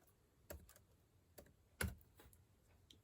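A handful of keyboard key taps entering a parcel weight, sparse and uneven with one firmer press near the end, close and quiet over faint room noise.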